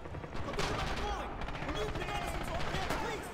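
Artillery fire in the World War II shooter Red Orchestra 2 on the snowy Winterwald map, with heavy explosions and gunfire rumbling continuously while someone talks over the battle.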